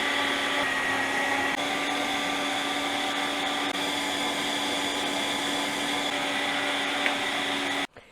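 A meat grinder minces meat, garlic and bread for nettle cutlets, making a loud, steady motor whine that runs without a break and cuts off abruptly near the end.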